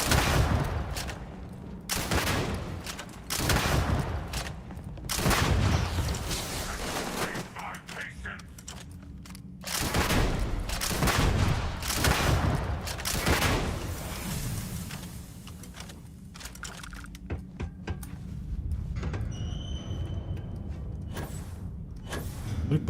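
Gunfire in the video game Starfield comes in repeated bursts of loud shots with mechanical clatter, some talk in between.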